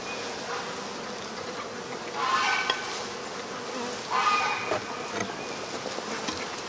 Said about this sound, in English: there's bees definitely in there